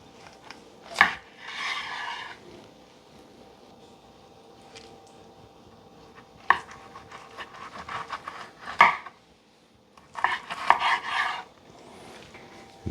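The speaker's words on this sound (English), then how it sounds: "Slice into it, see how we did." A knife slices through double cherry smoked St. Louis ribs on a cutting board, with several separate bursts of cutting and scraping strokes between quiet pauses, close and clear with no talk.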